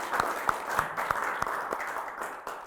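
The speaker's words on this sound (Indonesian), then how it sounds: "kita beri aplaus dulu" An audience at a university event at UGM gives faint, scattered applause, with individual claps at a steady, unhurried rhythm and no talking over them.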